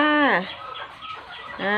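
Chickens at a backyard coop cluck and squawk at feeding time. Loud, rising and falling calls come close by, with a burst at the start and another at the end and quieter clucking between them.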